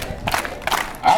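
A church congregation at a religious celebration cheers and applauds in loud bursts, with shouting voices rising and falling over clapping in a short, lively surge.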